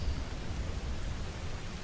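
Steady rain falling in a green outdoor setting, an even, close hiss with a low rumble underneath. It continues without a break, and no one speaks.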